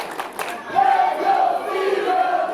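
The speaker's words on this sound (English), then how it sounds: "You can hear this crowd getting fired up, trying to get the Piranhas back in this one" Arena crowd at a wrestling show at the Robinsonville Rec Center cheering and getting fired up, a sustained wash of voices with rising shouts and chants swelling after a brief dip, steady and fairly loud throughout.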